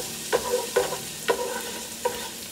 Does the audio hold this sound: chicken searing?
yes